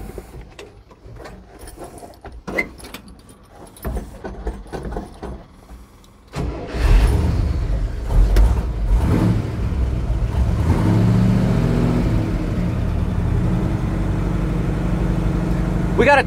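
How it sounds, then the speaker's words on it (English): A 1973 International Loadstar 1700 truck engine cold-starts with the choke pulled: quiet ticking and clatter, then it catches abruptly around the midpoint and settles into a loud, steady, close idle that runs to the end. "Crank her over, watch how she fires up."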